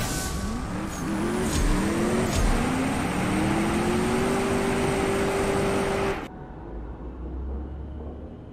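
A car engine in the CSR Racing 2 drag racing video game revs loudly and climbs steadily through the gears in a sustained rising whine, then cuts off abruptly into a quieter low rumble near the end, with no talk.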